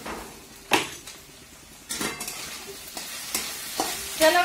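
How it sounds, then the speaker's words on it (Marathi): Thinly sliced potatoes sautéing in a pan, a low steady sizzle punctuated by repeated spatula scrapes and taps at irregular intervals, close by and with no voices. "तर बटाटे पण टाकले ते परतायला।"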